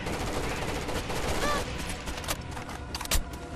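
Rainbow Six: Vegas 2 gameplay gunfire crackles in rapid bursts of automatic shots over a dense background of game noise, fairly loud and continuous.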